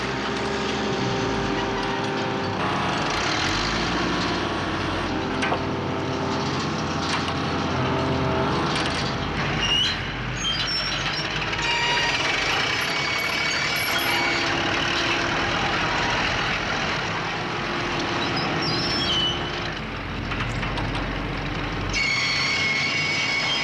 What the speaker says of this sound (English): Using a 600 horsepower crane, could they lift the rock?